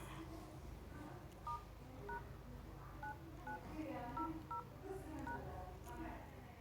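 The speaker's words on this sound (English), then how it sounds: "The only thing you need to do is dial this number." Keypad dialing tones (DTMF) on an Android phone: about a dozen short, quiet beeps in quick, uneven succession over faint background noise.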